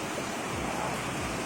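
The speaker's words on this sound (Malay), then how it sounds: "Kan ada batu, ada jeram." River water flows steadily over rocks and small rapids beneath the town of Temerloh, a continuous, fairly loud rushing wash with no talk.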